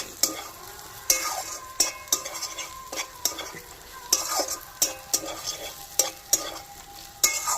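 Onions frying in a pan for chana masala, stirred until browned, with a steady sizzle broken by regular scraping strokes of a spoon every second or so, close and fairly quiet, with no talking.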